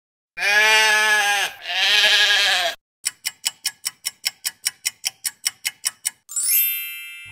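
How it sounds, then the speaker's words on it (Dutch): Two long, wavering sheep bleats back to back, loud and close, followed by a quick run of regular ticking and a bright chime. "Het schaap."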